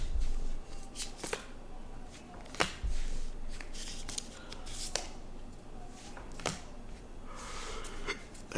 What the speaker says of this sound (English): We're gonna pull some more cards from Stefon Diggs.